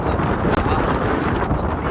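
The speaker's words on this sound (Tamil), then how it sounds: "காத்தண்டா காத்து, அப்படி ஒரு காத்து" Strong wind blows hard across the microphone while travelling in Sri Lanka, a loud, continuous rushing roar with gusty buffeting throughout and a brief dropout midway.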